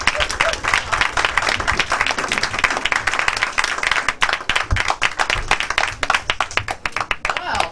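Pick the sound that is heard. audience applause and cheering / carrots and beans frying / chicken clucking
audience applause and cheering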